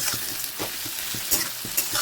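Onions frying in mustard oil with bay leaves and whole garam masala in a wok, a steady close sizzle broken by repeated scraping stirs of the spatula.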